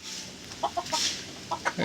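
Madrasi pigeons give several short, throaty coos and clucking calls in quick bursts, close by and moderately loud against a soft background hiss.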